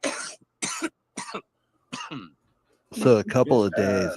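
A cough in the background, several short harsh bursts coming and going behind a person talking close to the microphone.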